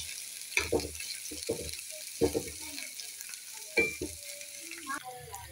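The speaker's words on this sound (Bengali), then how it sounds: "একটু ভালো করে নাড়াচাড়া দিই।" Noodles being stirred as they fry in a home kitchen pan, with a steady background sizzle broken by several distinct scraping and stirring strokes spread across the moment.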